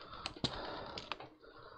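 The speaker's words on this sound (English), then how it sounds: "It's a PS2 keyboard." Keys on a Labtec PS2 computer keyboard are struck in a short, irregular run of sharp clicks, about five or six taps, close and fairly quiet against a faint background.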